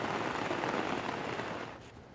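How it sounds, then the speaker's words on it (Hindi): Steady rain pours down in Roorkee, a dense, even hiss of drops on surfaces that holds constant before easing slightly at the end, with no voices. "बारिश के चलते तापमान में गिरावट दर्ज की गई।"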